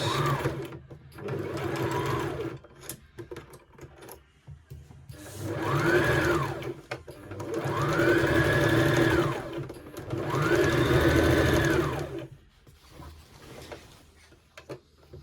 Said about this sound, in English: So you're going to sew down past the pocket about 1/2 inch.